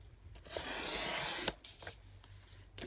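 Two pieces of card cut together in one pass, a close, steady scraping cut lasting about a second, then a few quieter rustles and snips.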